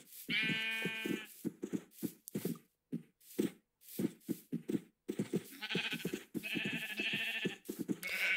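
Sheep in the video game Minecraft bleat repeatedly, the wavering calls mixed with short, blocky in-game sounds.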